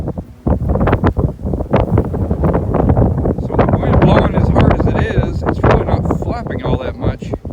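A strong winter wind buffets a Salewa Sierra Leone II four-pole tent with black aluminium poles, roaring and gusting loudly close to the microphone with rustling fabric, while a voice talks over it.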